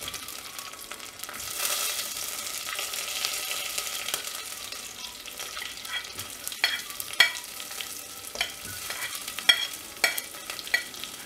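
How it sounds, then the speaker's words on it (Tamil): Green chilies and garlic fry in a pan alongside curry leaves and mint for Ramadan nombu kanji, giving a steady close sizzle; sharp spatula scrapes and taps against the pan grow more frequent toward the end. No one speaks. "பச்சை மிளகா பூண்டு ஆட் பண்ணிவிட்டு இதை நல்லா ஃப்ரை பண்ணிடலாம்."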